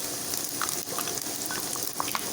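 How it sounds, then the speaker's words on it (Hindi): Keema mince frying in hot oil with ginger garlic paste just added, a steady close sizzle with soft crackles and faint stirring taps throughout. "और इसको भी हम फ्राई कर लेंगे कीमे के अंदर।"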